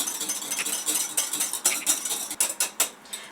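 Spoon clinking and scraping against a bowl while stirring dairy-free, gluten-free carrot cinnamon cake batter thinned with mineral water, a quick run of close, light metallic taps and clatters, louder toward the end.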